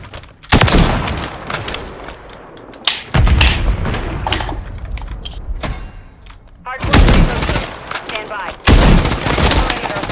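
Loud booming sniper rifle shots in the video game Call of Duty MW3 go off repeatedly at irregular intervals, each a heavy close blast with dull game noise between them.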